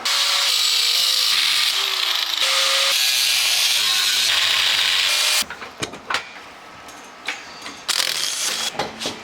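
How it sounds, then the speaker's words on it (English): A metal bracket being cut along marked lines with a power tool for welding onto a drift car chassis: a loud, steady grinding whine with shifting pitch for about five seconds, then scattered clanks and scraping handling noises. "And then I'm just going to cut along these lines, and that'll be the bracket that I can weld onto the chassis."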